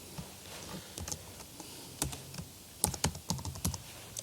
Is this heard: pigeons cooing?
no